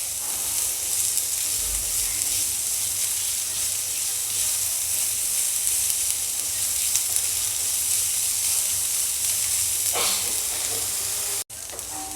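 Finely chopped onions sizzle and fry in a pan for a matar paratha, a steady close hiss with occasional stirring scrapes and no talking.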